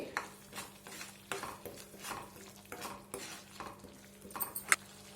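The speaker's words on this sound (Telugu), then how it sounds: "ఇప్పుడు ఇందులోకి ఒక బిర్యానీ ఆకు, 1/2 టేబుల్ స్పూన్ జీలకర్ర వేసుకొని ఒకసారి కలుపుకోండి." A spoon stirs a bay leaf and cumin seeds into masala in a pan, making repeated soft scraping strokes over a low sizzle with a sharp metallic clink near the end.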